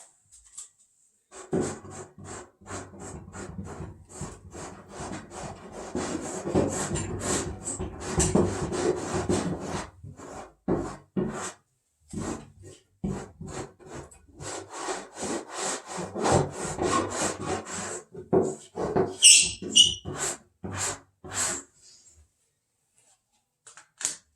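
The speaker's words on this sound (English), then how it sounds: "Now I'm taking the bowl scraper and I'm taking a little bit of the rust color." A bowl scraper works rust-colored paint across a palette, giving a long run of close, rasping scrapes and short rubbing strokes in uneven bursts, with brief pauses and a few sharper taps near the end, and no talk.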